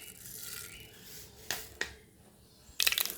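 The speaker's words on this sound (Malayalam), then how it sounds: "നമ്മുടെ കടുകെല്ലാം പൊട്ടിട്ടുണ്ട്." A couple of sharp pops in hot coconut oil, then a quick burst of crackling and spitting as mustard seeds splutter in a pan; no voices.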